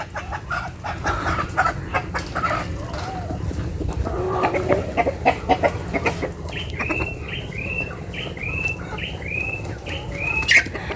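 Chickens cluck and squawk repeatedly nearby, a busy run of short calls with rustling and scratching underneath, growing denser toward the end.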